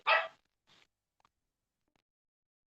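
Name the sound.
dog barking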